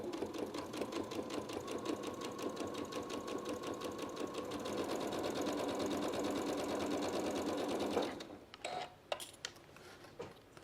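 A sewing machine stitches the curved trunk of an appliqué elephant, running in a fast, even, close mechanical rhythm for about eight seconds before stopping, followed by a few clicks and small handling noises.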